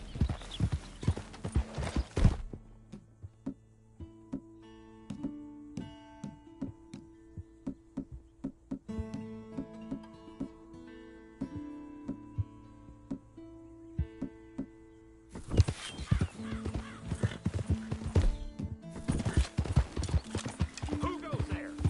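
Horse hooves clip-clop in Red Dead Redemption 2, loud rhythmic hoofbeats at the start and again in the final stretch, with a quieter music-like middle section and a whinny among the steps.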